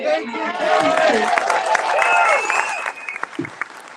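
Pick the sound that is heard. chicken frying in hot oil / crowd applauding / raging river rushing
crowd applauding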